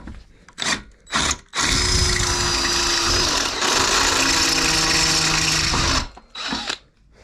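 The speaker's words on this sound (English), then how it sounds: "So let's get these drilled out" A power drill bores out the seat rail fixings of a Toyota Corolla E12: a few short trigger bursts, then a long loud steady whine of about four and a half seconds, close up, ending in a couple of brief bursts.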